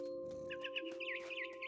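A mother bird in the video game What Remains of Edith Finch gives a short burst of close, agitated clucking squawks over a steady low hum.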